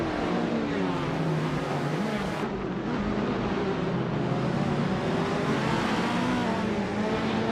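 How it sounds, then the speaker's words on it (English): Race cars in a video game roar continuously along a track straight, a steady dense engine drone that stays loud and even throughout, with a slight shift in tone partway through and no speech. "The fight for first between Steve Jumper and Botwaldo is heating up, with both pushing hard on the straight"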